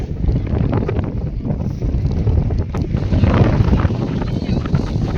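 A strong, cold wind roars across an outdoor footpath, buffeting the microphone in a loud, continuous rumble with gusty surges.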